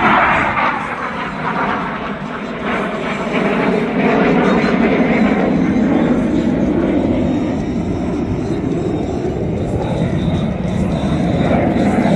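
Saudi Hawks jets flying a display at the RIAT airshow, a loud continuous roar of jet engines, with a faint voice underneath.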